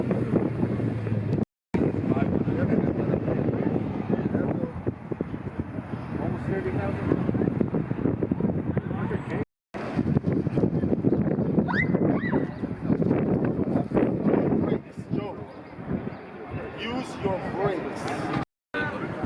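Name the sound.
wind blowing outdoors at a bike gathering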